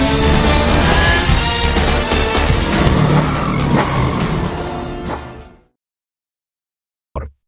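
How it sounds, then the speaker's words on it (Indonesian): A sports car races at speed during a chase scene in the action film Transporter 2. There is a loud, dense roar with engine and tire noise for over five seconds, then sudden silence and a brief final burst. "Jokowi yang melihatnya bergegas mengejar Tommy dengan mengendarai sebuah mobil sport."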